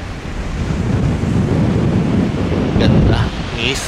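Strong wind buffeting the microphone over steady ocean surf on the North Luzon coast, a continuous loud roar with brief voices talking near the end.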